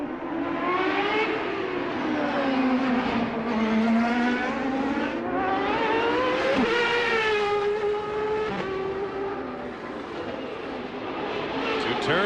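CART open-wheel race cars scream around a racetrack, high-pitched engines rising and falling steadily as they pass, with a commentator talking over the loud, continuous roar.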